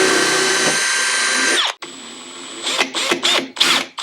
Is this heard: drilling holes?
yes